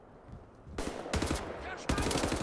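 Enemy gunfire in Wolfenstein: The New Order, two bursts of rapid automatic shots, fairly distant and modest in level, over a low background.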